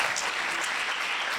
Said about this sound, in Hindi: ताली बजा सकते हैं आप।